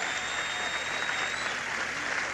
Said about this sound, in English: let's give Art Pepper a round of applause